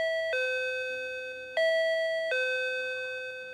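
An electronic doorbell gives clear, bright ding-dong tones, repeated several times close by with nothing else heard.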